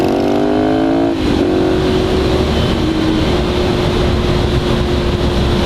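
A motorcycle accelerates hard at high speed with a rising engine whine through a quick gear change. It then settles into a loud, steady high-pitched drone over heavy wind roar.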